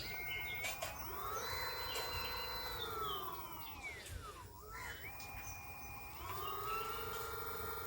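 An electric bicycle's BLDC hub motor spins at high speed, producing a loud whining tone that rises, holds, dips away, then climbs and holds again, over background noise.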